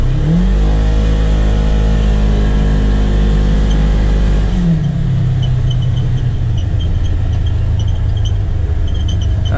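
A Polaris Ranger XP1000 UTV with a Hunterworks belt accelerates hard from a standstill on flat ground. The engine climbs in a loud, rising roar, then the pitch drops and settles into a sustained high drone as it keeps driving.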